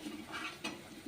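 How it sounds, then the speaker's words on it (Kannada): A short, soft scrape-and-rustle of vermicelli being stirred into a pan, with faint sizzling and a light clink of utensil against metal. "ಈಗ ನೋಡ್ರಿ ಶಾವಿಗೆ ಹಾಕಿ ಕಲಿಸ್ಕೊಂಡು"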